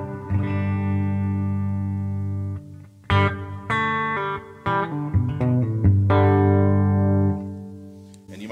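Electric guitar played through a Hopf Mini single-knob reverb pedal, a budget effects unit: sustained chords and picked notes ring out with a reverberant tail, struck anew in several bursts and fading at the end, with no talking.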